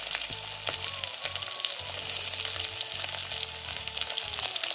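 Steady sizzling and crackling of onions frying in a hot pan, close up, with a low hum underneath and no talking.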